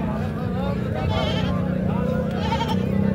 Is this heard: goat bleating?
yes